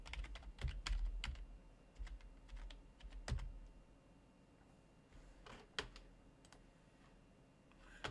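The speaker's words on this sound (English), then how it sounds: "Just type in the IP address" An IP address is entered on a computer keyboard: quiet, sparse key clicks in short bursts with gaps between them.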